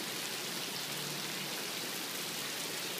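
Heavy desert rain pours in a dense, unbroken roar, loud and even throughout with no talking.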